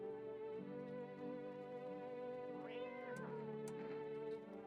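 A video game cat meows twice in drawn-out, rising-and-falling calls over a steady droning game soundtrack, with no talking.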